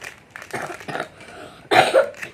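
A few short, breathy coughs close by, with one louder harsh cough near the end.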